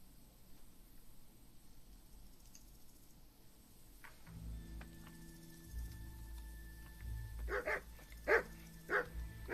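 A dog barks in the video game Kingdom Come: Deliverance, several sharp close barks arriving in a loose cluster near the end over a low rumbling game soundscape.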